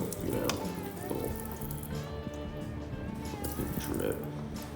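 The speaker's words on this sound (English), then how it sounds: "This is how I like to water my mango tree sapling. I have this little faucet head here. Kind of turn it on low" A small faucet head turned on low runs water onto a mango tree sapling, a steady soft trickle with a person talking over it.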